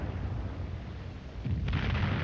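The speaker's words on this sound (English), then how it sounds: "Hitler could hear the explosions of their shells in his underground headquarters" Soviet artillery shells exploding during the shelling of Berlin, heard as a dull, continuous rumble that swells into a heavier boom partway through, distant and muffled.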